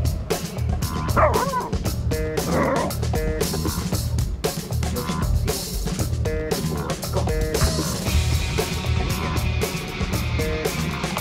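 A Chesapeake Bay Retriever puppy yips, barks and whimpers repeatedly at close range, the high-pitched calls coming in quick bursts over steady background noise.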